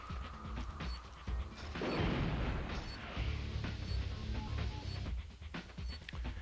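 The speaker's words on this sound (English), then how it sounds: "So yeah, I hope you guys like explosions." Dense booming blasts and crackling bursts from the PS1 game Spider-Man (2000) pile up continuously, with a big explosive surge near the two-second mark and rumbling impacts afterward.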